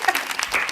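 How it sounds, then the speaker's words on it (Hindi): Brief burst of hand clapping at a family Mother's Day celebration at home, a short patter of claps lasting under a second, fairly close. "ताली बज जाए"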